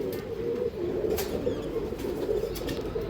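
Andhra line racing pigeons coo in a steady low murmur, with faint wing flaps and rustling close by.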